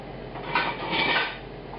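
Chicken broth with thyme in an uncovered pot, stirred with a utensil that clinks and scrapes against the sides in a short close burst, with no voices.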